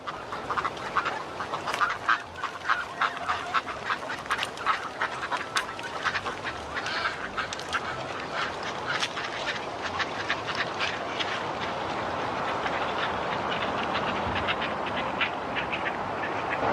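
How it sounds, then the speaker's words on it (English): A dense chorus of hundreds of ducks quacking at once as they march through a city, busy and overlapping, with background noise growing steadier toward the end. "Hundreds, even thousands of ducks marching through the city"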